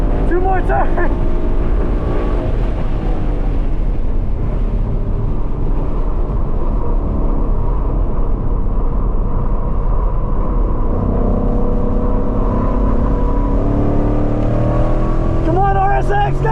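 Ford Mustang GT lapping a race track, loud continuous engine roar with pitch sweeps as revs climb and drop, wind noise over the cabin, and a driver speaking at times over the engine.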